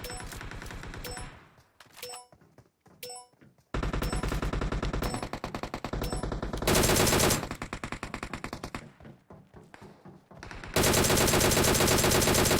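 Rapid automatic gunfire in PUBG Mobile, loud bursts of machine-gun shots separated by brief pauses, some volleys long and dense, others short and clipped.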